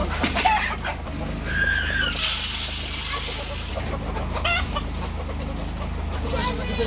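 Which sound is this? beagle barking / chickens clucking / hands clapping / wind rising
chickens clucking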